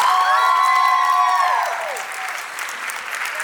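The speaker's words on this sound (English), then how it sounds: "Give Fluffy a round of applause, guys." A crowd at a dance competition applauds a performer, with whoops and cheers rising over dense clapping at first before the noise thins into a softer, steady patter.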